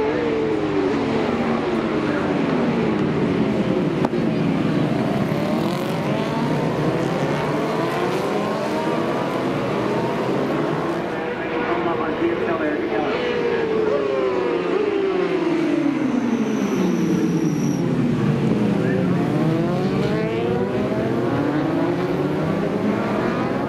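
Superbikes race past York Corner at the North West 200 road race, engines screaming loudly and continuously with repeated rising and falling pitch sweeps as bikes approach and pass one after another.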